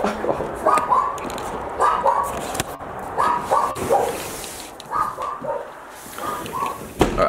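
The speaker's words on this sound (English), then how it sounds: "that dog's extremely annoying" A dog barks in repeated bursts, sometimes with short yips, spread across the whole stretch at moderate distance with quieter gaps between them.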